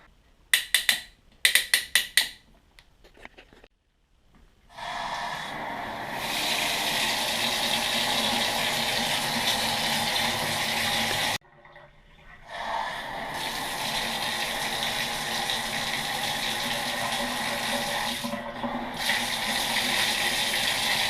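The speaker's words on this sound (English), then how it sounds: "Cold water, now warm." A newly installed shower panel in a remodeled bathroom sprays water in a loud, steady rushing hiss. Clicks and a brief silence come first, and the flow cuts out and resumes partway through as the water changes from cold to warm.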